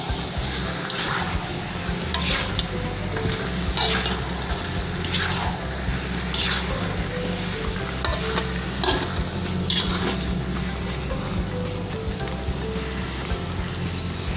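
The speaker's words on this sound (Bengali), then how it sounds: "সিরকাটা দিয়ে এবার আমি বেশিক্ষণ নাড়বো না, 1 থেকে 2 মিনিট নাড়বো, নেড়ে নামিয়ে ফেলবো।" Hog plum (amra) pickle with vinegar is stirred in a pan, a continuous scraping and swishing with soft clinks, steady and moderately loud, without talking.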